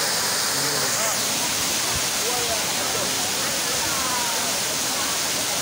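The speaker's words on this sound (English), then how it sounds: "we are here at King Tampa Waterfall" Kintampo waterfall roaring as a steady, loud, broadband rush of falling water that fills the whole scene, with faint voices buried underneath.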